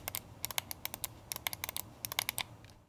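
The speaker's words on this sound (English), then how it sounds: "they make a very satisfying press with a sharp clicky sound" Tactile microswitch buttons on a Turtle Beach Stealth Ultra controller are pressed in quick irregular bursts, giving a string of sharp, close, fairly quiet clicks with no talking.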